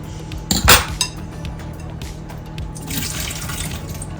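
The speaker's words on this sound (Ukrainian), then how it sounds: "Зараз зіллю водичку з кабачків. Бачите, скільки води?" Water splashes and trickles out in a short pour as it is drained from cooked zucchini, with a clink of a dish, followed by softer dripping and draining.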